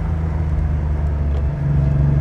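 A 1989 Porsche 911 Speedster engine pulling hard from inside the car, a loud steady low rumble with a slight rise in pitch toward the end.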